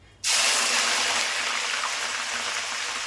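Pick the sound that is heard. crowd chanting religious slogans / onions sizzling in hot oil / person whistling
onions sizzling in hot oil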